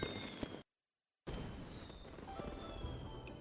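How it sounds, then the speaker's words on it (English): Fireworks explode in the video game Ballads of Hongye as a steady crackling, rumbling burst that fills the clip, broken by a short gap of silence near the start. "Oh, there they are. Some lovely explosions."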